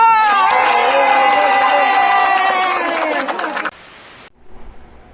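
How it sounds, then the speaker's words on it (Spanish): A crowd claps and cheers loudly on cue, a dense wash of applause mixed with shouts and whistles for several seconds before cutting off abruptly, followed by faint scattered background noise. "¡Un aplauso!"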